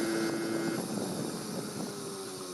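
A 1980 Honda Express moped rides along with its engine four-stroking, a droning, slightly uneven buzz heard close alongside steady wind rush, with a whining tone at the start.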